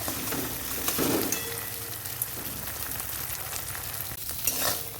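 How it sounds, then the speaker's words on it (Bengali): An egg fries in mustard oil in a wok, a loud, close, continuous sizzle with spatula scrapes as it is turned over, no voices. "এখন ডিমটাকে ভেজে নেব উল্টে পাল্টে।"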